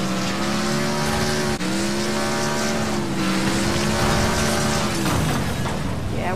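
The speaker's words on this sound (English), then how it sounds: "This car's flipping." Engine roar and tire squeal from a car flipping over in a demolition derby video game, a loud continuous revving drone with rising and falling pitch that briefly cuts out, then grinds on.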